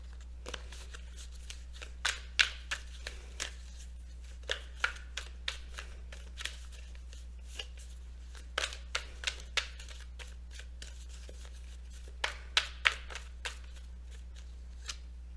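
Oracle cards are shuffled during a tarot reading: a steady run of soft, crisp riffling clicks in irregular bursts over a low, constant hum, with no voices.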